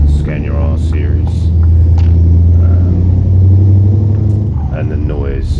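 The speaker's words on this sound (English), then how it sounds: "And the noise is Max's sound mod. Absolutely love it. I can listen to it all day long." A Scania R Series truck engine with a sound mod in Euro Truck Simulator 2 gives a loud, steady low rumble throughout, with someone talking over it.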